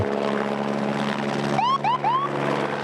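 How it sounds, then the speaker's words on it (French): A water-bombing firefighting helicopter drones steadily with a low engine and rotor hum, while a few rising whistle-like chirps sound near the end. "L'intervention d'un hélicoptère bombardier d'eau prouve la précision de son largage"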